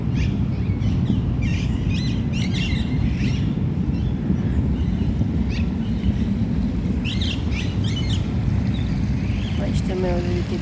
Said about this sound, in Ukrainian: Птахи порозкричалися.